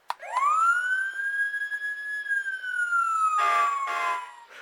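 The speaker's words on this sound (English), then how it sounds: "Siren." A siren sound effect from an MRC model train sound system starts with a sharp click, swoops up into one long wailing tone that slowly falls away, with brief noisy bursts near the end.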